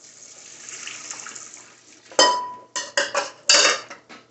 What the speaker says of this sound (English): I'm going to drain them off and rinse them